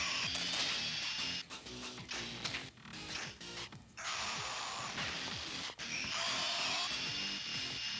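A power drill runs loud and close with a whirring, grinding drone, stopping briefly a few times before spinning up again, with no talk.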